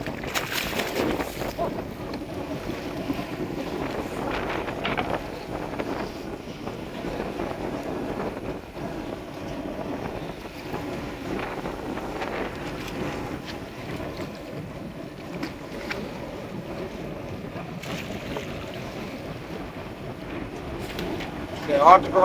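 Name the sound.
strong wind at sea on a fishing boat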